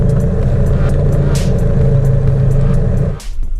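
A 1990s convertible car's engine running smoothly with the top open, a loud steady rumble close by that cuts off abruptly near the end.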